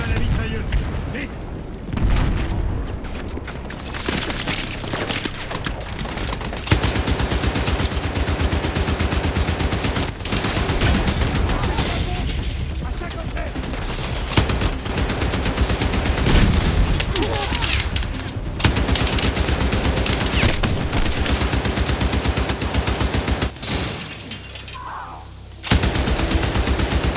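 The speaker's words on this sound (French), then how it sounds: "Installe-toi à la mitrailleuse." Mounted machine gun fire in the video game Battlefield 6, long loud sustained bursts of automatic gunfire with booming explosions mixed in, nearly continuous across the scene, with voices faintly under the din.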